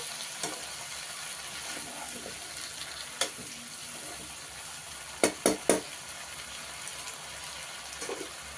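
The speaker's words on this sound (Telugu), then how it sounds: "నూనెలో ఒక రెండు నిమిషాలు బాగా వేగాలండి" Spices fry in hot oil in a pan with a soft, steady sizzle close by. A few sharp clinks of stirring come through, and nobody talks.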